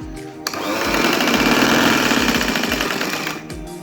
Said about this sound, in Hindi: मैं आपको थोड़ी सी सिलाई लगाकर दिखाती हूँ।